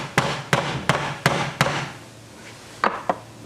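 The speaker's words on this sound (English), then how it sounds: "I'll take a hammer like this, and you got to remember not to hit hard because you will put a hole through the bumper" A hammer taps out a dent in a car bumper with light blows: five evenly spaced knocks, a short gap, then two more, all close and clear against a quiet room.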